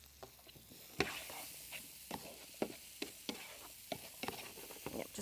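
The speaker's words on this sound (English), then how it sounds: "going to saute those for just a minute" Broccoli cuts and red pepper sauté in a pan, a soft, steady sizzle broken by repeated light clicks and scrapes of stirring, close and without talk.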